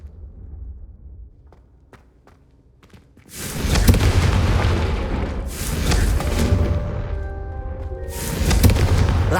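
A Confringo spell in the game Hogwarts Legacy erupts against candelabras after a few soft taps, giving a loud, sustained fiery roar with crackling bursts that swells again near the end.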